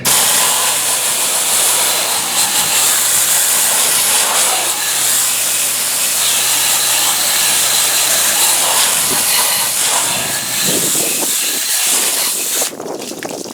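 Garden hose spraying a strong stream of water to rinse bugs off the front of an RV, a loud, steady hiss close by that runs unbroken before shifting near the end.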